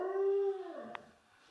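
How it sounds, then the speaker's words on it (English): A pet dog howls in a long, steady rising tone that trails off into a soft whimper, close by and alone, eager to go out for a walk. "if you hear in the background, my dog wants to go out for his walk"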